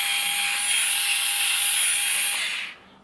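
A Parkside PAS 4 A1 cordless screwdriver runs at low speed, giving a steady, loud whirring hiss with a thin whine for nearly three seconds before it quickly winds down and stops.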